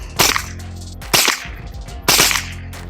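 AR-15 rimfire rifle at an outdoor shooting range firing three sharp, loud cracks about a second apart, each snapping out and fading quickly, with no talking.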